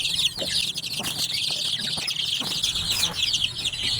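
Lemon Sweater gamefowl chickens clucking and calling continuously up close, a dense flock chorus with overlapping clucks and chirps and no talk.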